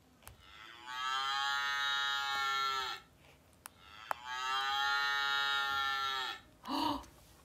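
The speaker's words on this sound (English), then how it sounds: "A cow! Did you guess a cow?" A cow mooing twice, each long, drawn-out low call lasting about two seconds, clear and close with a quiet pause between, followed by a short soft noise at the end.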